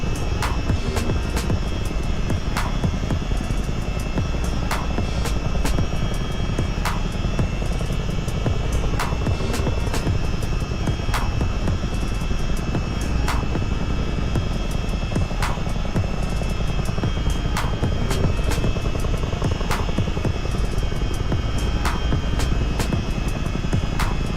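A CH-47D Chinook helicopter landing in the flight simulator MSFS 2020 drones continuously with a loud, steady rotor and turbine roar, with faint regular ticks throughout and no talking.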